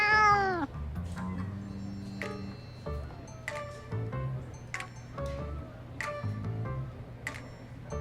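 A cartoon cat from the video game Love and Deepspace meows in a long, sliding cry, followed by several short, sharp clicks and chirpy game sound effects over a soft background music bed.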